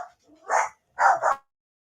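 Rescue dogs at home give a few short, close barks, one then a quick pair, against an otherwise quiet room.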